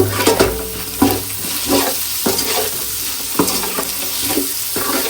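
Onions frying in a pan with a pinch of salt, stirred with a spoon: a steady sizzle broken by repeated scraping strokes roughly every second, close and clear with no talking.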